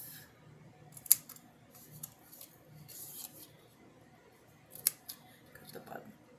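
Scissors snip through paper while a gift box treat holder is cut at an angle for a craft project, giving two sharp, close cuts a few seconds apart between quieter handling rustles, with no voices.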